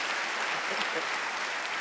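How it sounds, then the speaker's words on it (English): An audience at a county schools all-county band concert applauds the band directors, a steady, dense wash of clapping from a large crowd that fills the whole stretch at an even level. "Y'all clap for your band directors"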